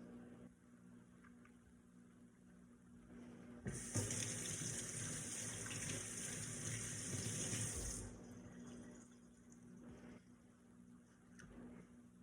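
A kitchen tap turns on suddenly and gushes steadily for about four seconds while hands are rinsed beneath it, then shuts off, leaving a quiet room with a low hum.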